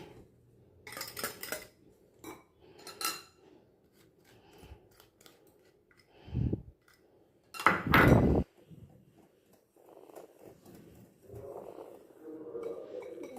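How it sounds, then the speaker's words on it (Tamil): Eggless rava chocolate brownie batter mixed in a bowl, with intermittent scraping and clinking strokes of utensil against the bowl, separated by quiet pauses, two louder bursts near the middle, no voices. "நல்லா எல்லாம் மிக்ஸ் ஆகிற மாதிரி கலந்து கொடுத்துக்கோங்க"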